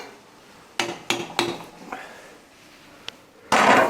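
Khoya being stirred in a cooking pot: a few sharp metallic clanks and scrapes of a utensil against the pot, spaced irregularly, then a louder burst of scraping at the end, with no talking.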